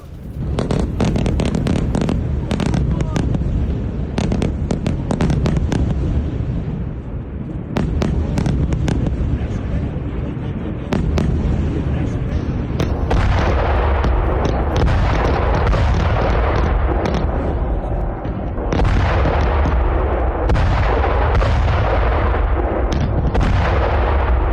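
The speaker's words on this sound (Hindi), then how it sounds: "आधी रात बेरूत के दक्षिण में बमबारी हुई।" Israeli bombing strikes southern Beirut at midnight, and loud blasts and sharp cracking bursts come in dense, uneven volleys. Some are very close and some roll on longer, with faint voices under the noise.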